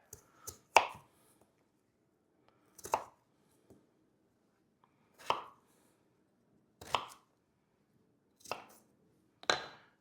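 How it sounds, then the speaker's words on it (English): A knife chops quartered potatoes into small chunks on a cutting board, heard as six or seven sharp, close knocks spaced a second or two apart, with quiet gaps between them and no talking. "what I do is quarter them so that they are small chunks of potatoes"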